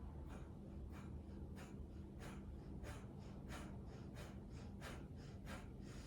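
Rhythmic, forceful breathing of a kundalini yoga kriya, steady sharp breaths repeating about twice a second, close and clear with no talk.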